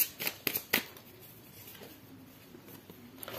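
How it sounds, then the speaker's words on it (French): Tarot cards shuffled and laid out during a reading, a few crisp riffling bursts in the first second, then quieter soft handling and faint slides, close and alone with no voices. "Je vais vous mettre une dernière carte avec ce tarot"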